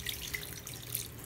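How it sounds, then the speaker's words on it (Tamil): Water trickles into a duck curry simmering in a clay pot in village-style cooking, a brief, soft, faint pour with no voices. "தண்ணி கொஞ்சம் ஊத்துறேன்"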